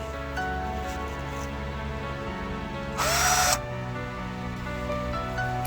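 A power drill bores drainage holes into a plastic plant container for overwintering pepper plants, giving one short high whine of drilling over a steady background hum.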